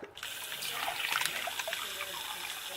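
Tap water runs into a cup at a bathroom or kitchen sink, a steady broadband splashing that continues throughout at close range, with no talking over it.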